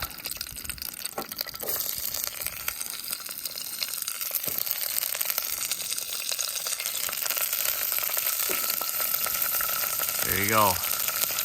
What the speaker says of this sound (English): saute these in the pot first